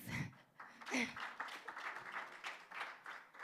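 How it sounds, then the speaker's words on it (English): Applause from the audience at a LINS pilots' results dissemination event, a modest patter of clapping that rises and falls in waves, faint and somewhat distant. "A round of applause, please."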